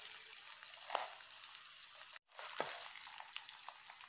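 Urad dal and chana dal roast in a pan with a steady, soft sizzle and scattered crackles, briefly cutting out midway before resuming.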